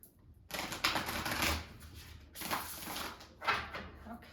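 Sacred Forest Oracle cards being shuffled by hand, close papery riffles and rustles in three bursts separated by brief lulls, no talking.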